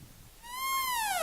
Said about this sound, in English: Or on Bebot, which will sound like this.